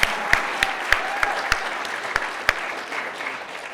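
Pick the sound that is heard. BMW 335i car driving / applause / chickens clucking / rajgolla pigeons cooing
applause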